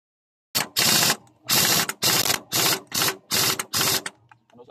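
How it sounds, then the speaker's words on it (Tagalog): A pneumatic air impact gun tightens a nut on a Kawasaki Bajaj CT 100 motorcycle, firing seven loud, close rattling bursts in a steady on-off rhythm with short pauses between, and no talking. "Tapos higpitan natin gamit ang ating air gun."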